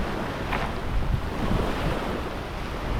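Rough water surging against the shore at dawn or dusk, with a steady wind roaring across the microphone in a continuous broadband wash, waves breaking close and loud throughout.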